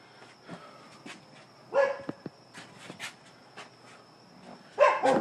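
Several dogs bark in a neighbor's backyard in the evening, giving scattered sharp barks and yips at moderate distance, with louder bursts near the middle and at the end over a faint steady background tone.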